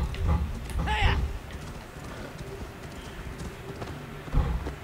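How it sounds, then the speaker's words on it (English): Hooves clip-clop in a galloping rhythm amid game-like ambience in Assassin's Creed Valhalla, with a brief snort or whinny near the start and a thud near the end. "This is my horse running."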